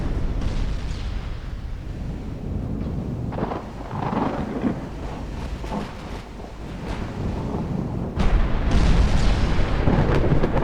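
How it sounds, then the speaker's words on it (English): Heavy 17-inch naval guns firing in the naval battle game Ultimate Admiral Dreadnoughts, heard as a steady, deep rumbling roar with scattered booms that swell louder toward the end, with no voices. "Those 17-inch guns are kind of spooky."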